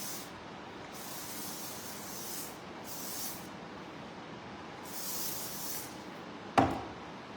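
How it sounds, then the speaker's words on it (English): Hold All medium working hairspray is sprayed onto hair in four separate hissing bursts, each lasting about half a second to a second with pauses between, close and soft, ending with a sharp click. "Gonna go through here with a little bit of hairspray."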